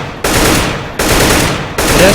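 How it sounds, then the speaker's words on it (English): Rifle bursts in Counter-Strike: Global Offensive, with three loud, sharp shots evenly spaced under a second apart, each decaying briefly before the next. "that's just a 2-shot burst"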